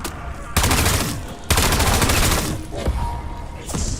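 AK rifle gunfire in the Black Ops 7 video game, loud close automatic bursts that come in two long sustained strings with short gaps, then a final burst.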